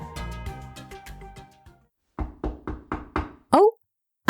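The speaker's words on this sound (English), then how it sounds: "Oh, I hear a knock." A cartoon door is knocked on in two bursts of five or so quick, close raps, separated by a pause, followed by a short squeaky sound, all against background music.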